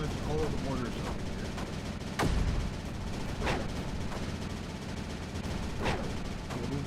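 Mortars firing in the strategy video game Creeper World 4: several booming shots at irregular intervals, one heavier blast standing out, over a dense background of in-game battle noise.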